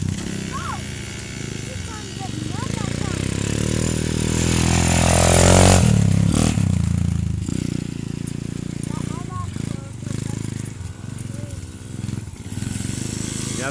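Small motorbikes with buzzing engines ride close by, revving up to a loud peak midway before settling back, while people shout and cheer over the noise.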